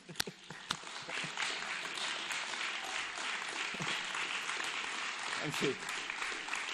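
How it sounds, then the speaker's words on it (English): Audience applause at a journalism day event, steady broadband clapping filling the room for several seconds, with a brief spoken thanks over it near the start. "He's starting to clap."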